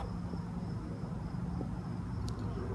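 Insects chirping outdoors near a sidewalk, giving a faint steady high-pitched drone under low background rumble, with one brief brighter chirp near the end.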